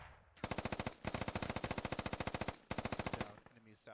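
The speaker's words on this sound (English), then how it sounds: "The American forces have reached the center divide here and are taking fire" Rapid machine-gun bursts rattle out in a military video game battle, three long fast strings of shots separated by brief pauses, loud and close with no talking over them.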